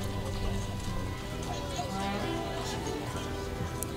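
Horses' hooves clip-clop during a Mule Day parade, a busy patter of steps mixed into crowd noise and nearby voices.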